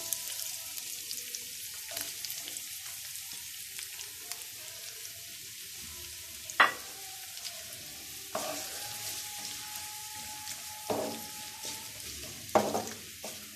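Onions frying in oil in a pan for chicken patties, a steady soft sizzle with occasional sharp clinks and stirring scrapes of a utensil, fairly quiet and close with no talking.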